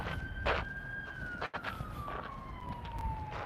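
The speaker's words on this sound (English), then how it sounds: "I see a ambulance going slowly." An ambulance siren passes slowly on a road beside a freeway, its steady wail gliding gradually lower in pitch as it goes by, clear and fairly close over a constant traffic rumble.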